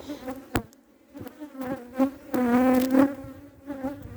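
Honey bees buzz inside a divided hive, a close, wavering hum that swells and fades with short louder bursts as the bees move around.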